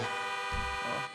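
Car horn of the Bollokan Envisage in the video game GTA V, a steady, rich multi-tone honk held for about a second before cutting off.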